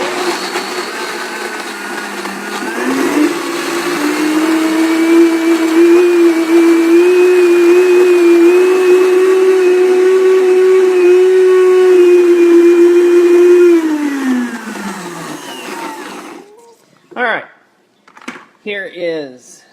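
A countertop blender on its soups and sauces setting whirs through garlic hummus, a loud, steady high-pitched whine that ramps up, holds for about ten seconds, then winds down, followed by a few brief voices.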